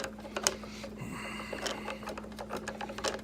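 Torx 10 screws being backed out of an Xbox console with a screwdriver: quiet, close-up clicks and light scraping ticks in an irregular run, over a steady low electrical hum.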